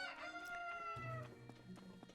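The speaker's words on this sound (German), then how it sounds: "3:30 morgens kräht ihr schon." Chickens and a rooster crowing on a farm in the video game Zelda: Tears of the Kingdom, with a sustained crow and scattered clucks against in-game music, fairly close and clear.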